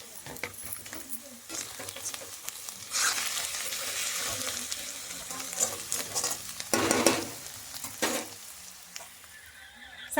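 Garlic frying in a pan in a home kitchen while cooking greens, with a continuous sizzle broken by repeated bursts of stirring and scraping close up, loudest near the middle and end.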